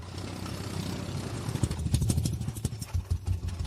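An old tractor engine runs close by with a steady low rumble broken by uneven clattering knocks that grow busier partway through; no one speaks.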